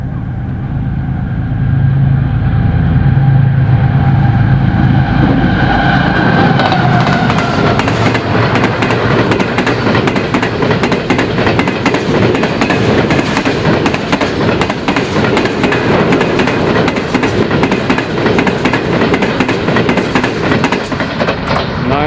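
A train passes close and loud, its rumble building into a sustained roar with rhythmic clickety-clack of wheels over rail joints, on a freezing January morning of train spotting.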